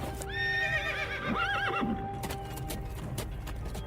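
Cavalry horses neigh in a long, wavering whinny while hooves clip-clop steadily, moderately close and alone without talk.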